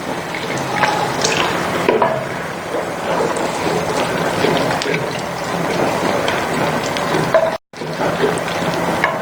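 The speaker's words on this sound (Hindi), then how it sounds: "और इसमें थोड़ा सा हम पानी शामिल करेंगे, तकरीबन 1 डोई के करीब।" Water poured into a pan of kadhi made with yogurt, a steady splashing, gurgling stream running continuously with a brief cutoff near the end.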